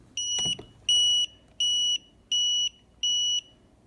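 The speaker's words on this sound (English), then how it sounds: "So it beeped 5 times." A DeWalt-to-Ryobi battery adapter with a low-voltage alarm beeps five times, short high-pitched electronic tones at an even pace, close and clear over a quiet room.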